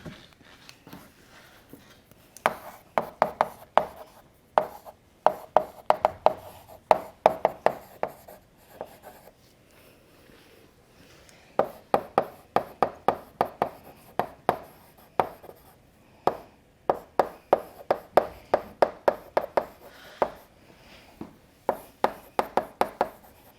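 A pen or chalk writes math formulas in quick bursts of tapping and scratching strokes, close and fairly clear, with a few short pauses between lines and no talk.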